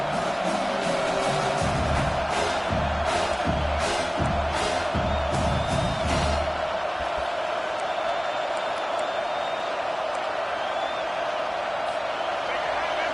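A stadium crowd at a college football game roars in a broad, sustained wash that swells early and then settles into a lower hum, with a commentator's voice heard over it.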